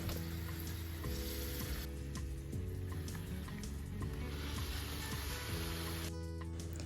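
Shelpek flatbread made from a three-ingredient dough frying in hot oil, a steady close sizzle with crackling bursts throughout, no voices.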